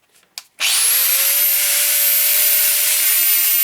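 A Bosch GWS 750 angle grinder starts after a few faint clicks and spins up to a steady, loud, high-pitched whine that holds unchanged to the end, with no talking.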